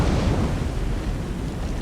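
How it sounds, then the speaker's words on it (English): Torpedo explosions hitting a battleship in the War on the Sea naval video game, a continuous heavy rumbling roar of blasts, loud and dense with no talk. "the run-on torpedoes got her"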